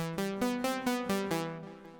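Arpeggiated analog synth built from a sawtooth oscillator in Ableton Live, for a Stranger Things style sound: a steady run of bright, buzzy notes stepping up and down in an even rhythm, ringing out alone with no voices.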